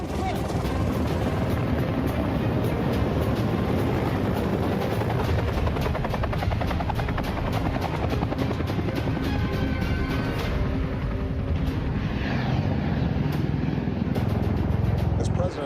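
A helicopter, turned back at closed airspace, drones loudly and steadily close by with a continuous rotor and engine roar, while voices speak over it.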